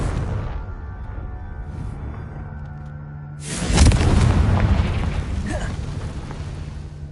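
A Confringo fire spell is cast in Hogwarts Legacy: a quiet mechanical hum and creak give way to a sudden loud booming blast that rumbles on and fades slowly.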